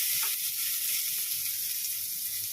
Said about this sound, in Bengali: লাল লাল করে ভাজবো একদম